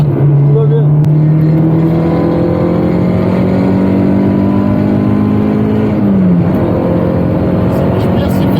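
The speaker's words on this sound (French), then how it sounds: "C'est ça qui est bien, les petits bons moteurs 4 cylindres atmosphériques." A Peugeot 306 S16's naturally aspirated four-cylinder engine drones loudly from inside the car, its pitch climbing steadily as it revs, then dropping briefly, as at a gear change, before rising again.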